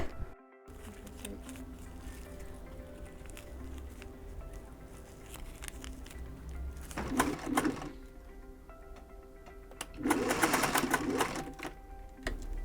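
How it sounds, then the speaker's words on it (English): Bursts of rapid mechanical stitching from a sewing machine, two main runs of whirring, close and fairly loud, separated by quieter clicking and handling noise. "Using my sewing machine, which I use a lot"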